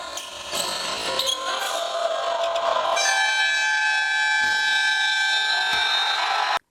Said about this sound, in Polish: natychmiastowy rzut przed kończącą kwartę syreną i piłka wpada do kosza